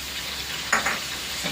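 Food frying in a pan with salt and turmeric gives a faint, steady sizzle in a home kitchen. A short stirring scrape breaks through partway.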